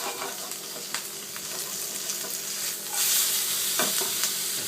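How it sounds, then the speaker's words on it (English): Bacon crisps over high heat in a pan with a busy, crackling sizzle close by. The sizzle grows louder partway through, and stirring scrapes and light taps come and go, with no talking. "Bacon's crisping away lovely"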